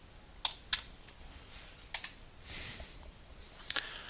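A computer keyboard being typed on while an angle value is entered in drawing software: sparse, sharp key clicks in small clusters, one brief rustling sound in the middle, with no voices.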